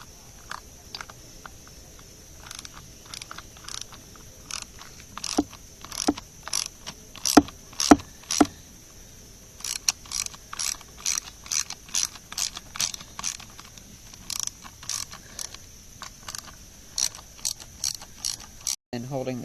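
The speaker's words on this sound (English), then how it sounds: "I'm just going to remove the carburetor with a 3/8 inch soft loosening these nuts here" A 3/8 inch socket ratchet loosens the carburetor nuts on a string trimmer, giving close, crisp rapid clicking in repeated bursts with short pauses between them.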